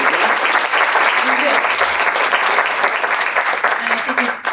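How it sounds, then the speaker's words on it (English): A large audience applauds a panel on sustainability and climate change, with loud, dense, sustained clapping that holds steady throughout and a few voices underneath. "I think we should give a round of applause to this amazing panel"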